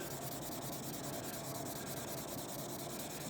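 Close, steady rhythmic rubbing of 1000 grit sandpaper along a katana blade, a continuous soft scratchy sanding with regular back-and-forth strokes and no talk.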